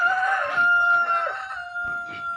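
Chickens on a farm that also keeps turkeys, ducks and pigs make loud, close rooster-like crowing and clucking calls, with no one talking.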